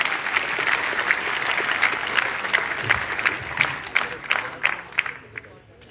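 Audience applause at a school annual day celebration, a steady wash of many hands clapping that swells and thins over several seconds, heard from within the crowd.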